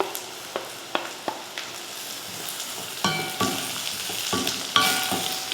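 Bitter gourd and onions sautéing in a pan, a steady sizzle broken by regular scraping stirs of a spatula, close and fairly loud with no voices.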